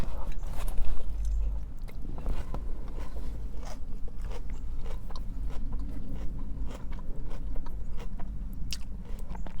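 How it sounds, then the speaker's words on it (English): Loud, close crunching bites and chewing of crisp leafy food, repeating irregularly throughout with no talking. "It's that crunchy salad."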